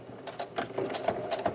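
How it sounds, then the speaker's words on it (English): Sewing machine top-stitching along the edges of a fabric mask, a steady mechanical whir with clicking needle strokes, close and alone. "you're going to go ahead and run a top stitch along the top and bottom edges"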